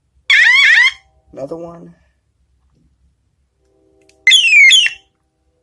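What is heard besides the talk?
car alarm sound from BBR Tuning bicycle brake light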